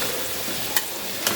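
Cooking oil sizzles steadily in a hot pan while biryani is prepared, a close, even hiss with two brief sharp crackles near the end.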